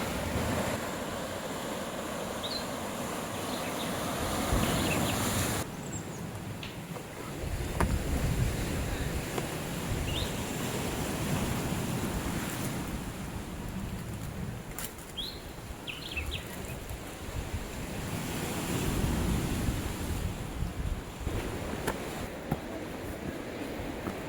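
Waves wash over a pebble beach at Storms River Mouth, giving a rolling surf roar that swells and recedes, with gusty wind buffeting the microphone.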